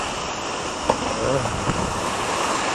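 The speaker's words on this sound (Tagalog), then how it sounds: "Ayan o, sobrang lakas ng hangin." Strong wind roaring steadily close to the microphone at a motorcycle campsite, with a couple of faint knocks and a brief voice-like murmur underneath.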